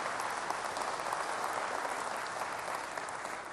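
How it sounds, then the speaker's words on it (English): Steady applause from an audience at the Sony E3 2006 press conference, dense clapping that fills the whole stretch at an even level without letting up. "please, round of applause for the great work there"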